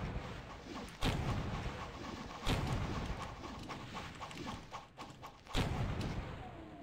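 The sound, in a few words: cannon firing in video game Pirate Doom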